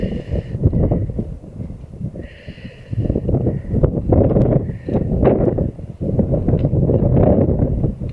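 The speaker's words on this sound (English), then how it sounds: "Well, it's a windy old day." Gusty wind buffets the microphone outdoors on a blustery day during metal detecting in a field, a steady low rumbling roar that swells and dips in waves, with no voices over it.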